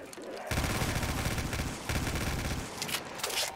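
Full-auto gunfire rattles in a custom Five Nights at Freddy's zombies map in Call of Duty Black Ops 3, with two loud sustained bursts separated by a short pause, followed by sparse clatter.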